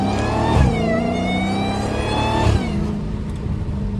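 Dodge Hellcat V8 revving hard with cheap tires spinning, two loud surging rev peaks with rising harmonic whine, close and continuous, no talk.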